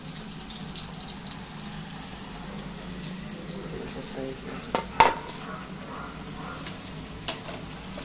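Snacks deep-fry in hot oil, a soft, steady sizzle with occasional stirring clinks and a louder clatter near the middle, heard faintly alongside quiet kitchen sounds.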